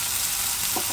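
Matki usal sizzles loudly in a pan with tomato, coriander, kala masala, coriander powder, turmeric and salt, a dense continuous frying hiss that fills the moment with no speech.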